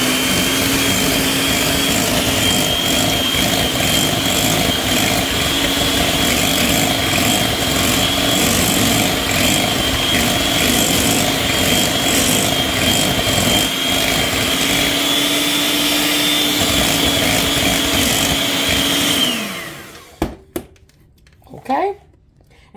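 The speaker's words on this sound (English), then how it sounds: "Then you want to blend this all together." A kitchen blender whirs steadily, loud and close, mixing sweet potato cheesecake filling with vanilla, then winds down and stops near the end, leaving a few clinks and knocks.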